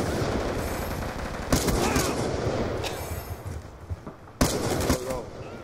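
Rapid automatic gunfire from the video game Black Ops 2 comes in two sharp bursts with quieter shots between them, loud and close.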